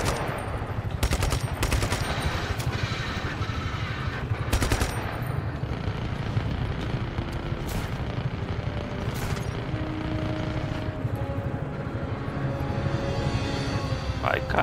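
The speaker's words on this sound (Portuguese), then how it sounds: "Nossa, é muito tiro rolando." Dense, continuous gunfire in the video game Just Cause 3, with rapid automatic bursts and scattered single shots, loud and relentless throughout, with a voice occasionally talking underneath.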